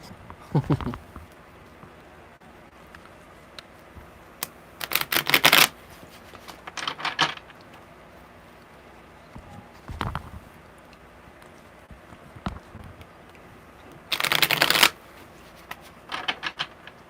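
Tarot cards are shuffled in several short, crisp riffling bursts separated by quiet pauses, close to the listener, with faint handling noises in between.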